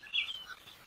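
Young red-billed buffalo weaver chicks call from a nest in the Okavango Delta, one short, faint, high chirp with nothing else around it.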